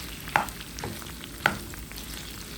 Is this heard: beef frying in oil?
yes